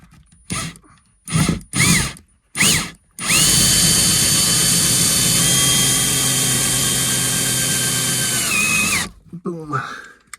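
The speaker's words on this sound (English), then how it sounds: "and then use your drill" A power drill drives a screw into drywall while a light bar is mounted. Several short bursts come first, then one long steady whine of about six seconds that cuts off sharply, with brief talk before and after.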